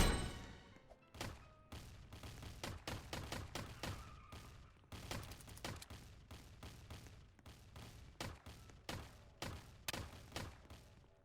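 Rapid gunfire in a Roblox video-game shoot-out, a steady run of sharp repeated shots with a few louder bursts, continuing for several seconds with no talk over it.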